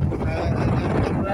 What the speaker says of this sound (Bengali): আমরা এই সমুদ্রের বাতাস